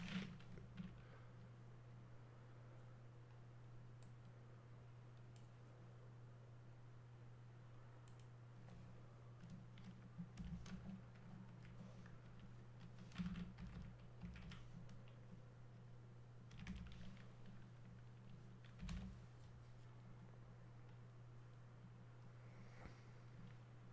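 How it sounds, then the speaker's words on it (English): Lap times are typed on a computer keyboard, with faint, scattered key clicks and taps over a steady low electrical hum, quiet and without speech. "I'll make another attempt to actually get to type in those lap times."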